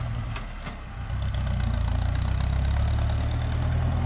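A Ford 6640 tractor idles in a muddy paddy field, close and steady, with a brief lull before the throbbing diesel note firms up and holds.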